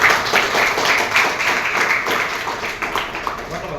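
Students clap together in a classroom during a ninth-grade math lesson. The applause is dense and steady, with many hands going at once, and it lasts several seconds at a moderate level.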